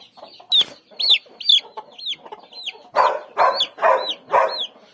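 Chickens cluck and squawk repeatedly up close, a rapid series of sharp calls in an uneven rhythm, growing louder and busier toward the end.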